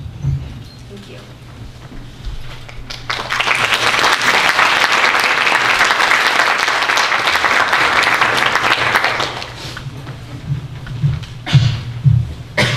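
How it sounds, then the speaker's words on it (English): Audience at a theater monologue performance bursts into applause, a dense, loud wash of clapping lasting several seconds before tapering off, with a voice speaking briefly before and after. "give another round of applause to our actors here"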